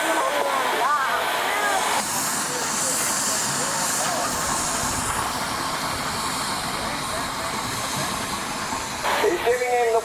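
A steam engine idles in neutral at the west end of a Boolero farm-machinery display, giving a steady, broadband hiss that runs through the whole stretch with faint higher tones over it and a voice talking underneath.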